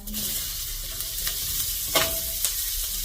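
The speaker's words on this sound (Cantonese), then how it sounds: "炒呢個 洋葱，" Onions sizzle in a hot pan over medium-low heat with a few sharp spatula scrapes as they are stirred, loud and close, no talking.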